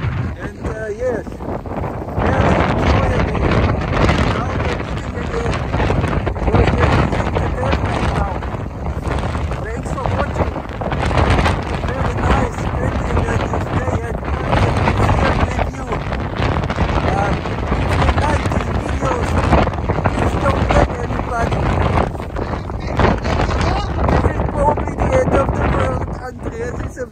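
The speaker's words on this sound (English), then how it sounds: "It's a very nice beach, but it's very windy, as you can hear." Strong wind buffets the microphone on a beach near the sea, with loud, gusty roaring rumble running the whole time under a person talking.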